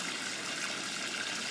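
Water trickling and draining down through a media-filled basket in an aerated bucket system that turns kitchen discards into liquid fertilizer, a close, steady splashing rush throughout.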